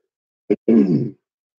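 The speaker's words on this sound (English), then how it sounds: "Sorry, excuse my cough." A short, close cough: a quick sharp burst followed by a longer rough, throaty exhale, then silence.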